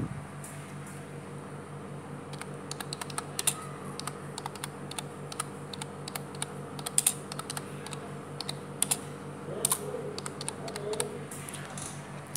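Rapid typing on a computer keyboard while changing text in Photoshop: steady, fairly quiet clicks of keys in irregular bursts over a faint background hum, with no talking.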